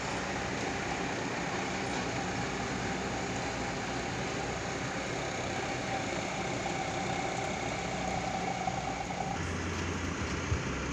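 A bus engine idles low and steady as it pulls into a rest-stop parking area during the holiday homecoming rush, a constant mid-level rumble with a brief brighter rise near the end.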